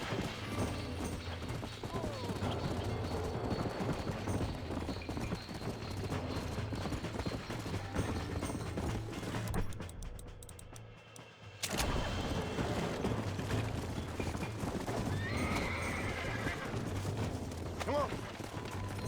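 Horse hooves clip-clopping in Red Dead Redemption as a rider struggles to steady and break a horse, with busy game sound and a brief dropout, while someone talks over it.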